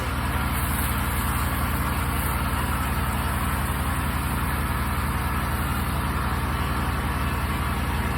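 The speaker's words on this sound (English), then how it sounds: "There's the turbine again." A soft washing rig's turbine engine runs steadily outdoors during exterior house washing, producing a loud, constant mechanical drone with a high whine and no breaks.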